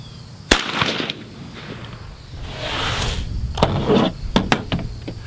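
Suppressed 5.56 rifle fired at a target on an outdoor range: several loud, sharp reports spaced irregularly over a few seconds, each followed by brief echo and rustling, with no speech.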